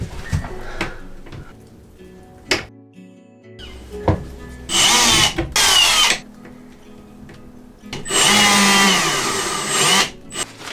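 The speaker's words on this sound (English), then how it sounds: "We're gonna have to drill our hole through this piece" A power drill whirs in several loud bursts as it bores through a wooden board inside a garden shed, with short clicks and knocks between runs.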